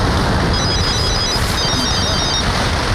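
A phone rings with a repeating electronic tone over loud, dense background noise and commotion, continuing steadily throughout.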